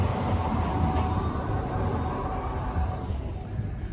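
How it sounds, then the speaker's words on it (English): A tram pulls into New Addington tram stop, a steady low rumbling roar of rail wheels and motor that stays fairly loud and even throughout, heard from aboard a nearby bus. "Everyone knows there's a tram coming in."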